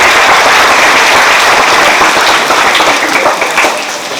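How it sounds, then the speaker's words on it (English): A school audience gives a big round of applause to quiz competition participants at a felicitation event, a loud, dense and continuous clapping that eases slightly toward the end. "let us give them a big round of applause"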